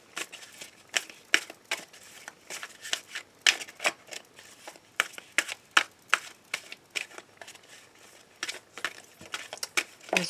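Tarot cards being shuffled for a daily reading, a steady run of quick papery riffles and flicks close up, with no talking.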